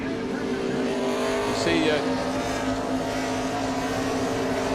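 NASCAR Cup race cars at the 2006 Dodge Save Mart 350 road course, with a continuous loud engine roar and a brief pitch shift as a gear change comes through, under race commentary.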